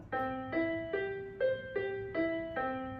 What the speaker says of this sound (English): An arpeggio sounds like this. This is a major one